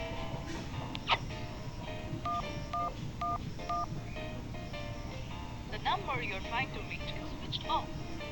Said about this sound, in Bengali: একবার ফোন করে দেখি